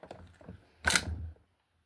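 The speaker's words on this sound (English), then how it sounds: "Bring the bolt back." The bolt of a Maverick 88 12 gauge shotgun is pulled back during disassembly, making one close, sharp metallic clack after a few faint handling taps, then quiet.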